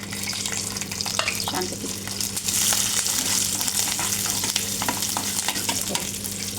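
Garlic frying in oil in a pan, a steady dense sizzle with scattered stirring scrapes and crackles, close and continuous, with a brief voice.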